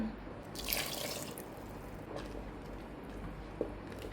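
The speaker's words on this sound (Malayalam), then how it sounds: "അപ്പോൾ ഇനി കുറച്ചുകൂടെ വെള്ളം ഒന്ന് ഒഴിച്ചു കൊടുക്കാൻ പോവാണ്" Water runs and splashes steadily into a pot of egg kurma curry, a continuous gushing pour with a small clink near the end.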